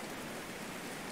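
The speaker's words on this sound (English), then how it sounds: "it's raining in the house, but it shouldn't be raining in the house" Steady rain falls in the medieval colony-building game Going Medieval, a dense, even hiss of drops on surfaces that continues without a break, with no voices over it.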